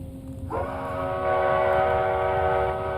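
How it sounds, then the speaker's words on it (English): A loud train horn from the video game Dead Rails blasts after a brief quiet start, a sustained multi-tone chord that holds steady to the end. "when you pull it, a loud train horn starts"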